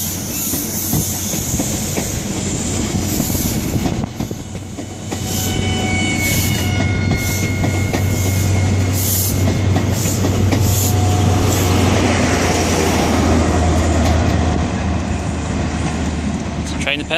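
A train pulls into Exeter St David's station from Penzance, a steady rumbling roar with wheel hiss and faint squeals throughout, under light background noise.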